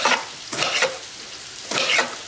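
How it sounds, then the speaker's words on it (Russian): Onion fries in a pan with a steady soft sizzle, punctuated by three bursts of stirring and scraping, close and clear with no talk. "Пока у меня там лук обжаривается"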